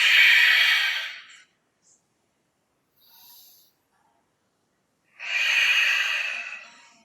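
Two long, airy, forceful breaths, an exhale and then an inhale, taken during a Pilates exercise class. They are close and loud, with a quiet gap between them and a faint soft breath in that gap.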